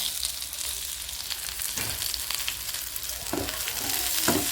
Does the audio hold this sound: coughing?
no